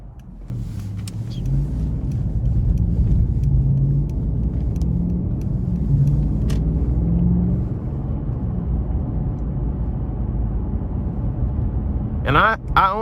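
A 2014 Mercedes-Benz S550 4Matic sedan cruising on the road, its low steady rumble of engine and tire noise filling the cabin, with a few faint clicks and a brief voice near the end.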